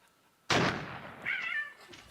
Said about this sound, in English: you can even watch cat videos